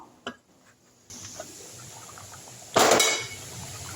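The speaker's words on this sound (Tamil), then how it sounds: "இப்போ அப்படியே லேசாக மூடி வச்சுருவோம்" A metal lid settles onto a pot of mutton biryani after gentle stirring, a short bright clatter of metal on metal midway through, with a soft scrape earlier and a low kitchen hiss throughout; nobody speaks.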